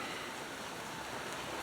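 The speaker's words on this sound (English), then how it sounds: "it's the first rainy day we've had in weeks" Steady rain falls outdoors on a rainy day beside a smoker cooking pork butt, a faint continuous broadband hiss with no voices over it.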